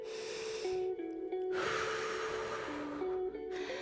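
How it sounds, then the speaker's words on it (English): Deep, slow yoga breaths, audible inhales and exhales with a soft nasal rush, sound close over steady tonal background music. "let's take 3 breaths"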